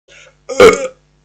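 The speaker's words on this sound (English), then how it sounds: "I'm about to burp" One loud, close burp, preceded by a brief faint sound, then silence.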